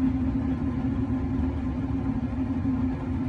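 A magnetic stirrer spinning at 360 RPM while making chalk gives a steady, continuous low hum with a constant tone throughout, no voices.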